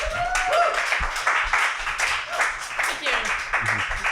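Scattered clapping from a small audience at a concert series interview for a singer, fairly close and uneven, with voices talking over it throughout.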